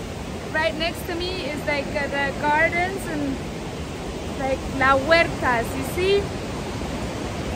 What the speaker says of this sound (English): what you hear right now is the river and it's super loud